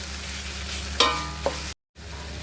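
Carrots with green chili are stirred in a pan for gajar aloo dum, a steady sizzle under a couple of sharp utensil clinks, then a short break in the sound before the frying resumes.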